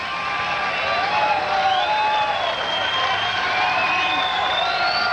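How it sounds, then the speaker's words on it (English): Crowd at a 1994 AVP Milwaukee Open pro beach volleyball quarterfinal cheers and whoops steadily, with scattered applause rising through a continuous roar of many voices. "Crowd comes alive."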